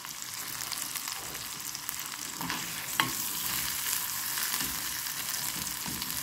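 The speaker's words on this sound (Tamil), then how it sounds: "இப்போ இதுக்கு கட் பண்ணி வச்சுக்கிற டொமாட்டோவையும் க்ரீன் சில்லியும் போட்டுக்கிறேன்." Chopped tomato and green chili frying in a pan for a spicy liver curry, a steady dense sizzle with occasional stirring clinks and scrapes.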